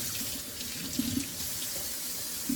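Running tap water splashes steadily into a sink while knives are rinsed, with a few brief clinks of metal under the flow.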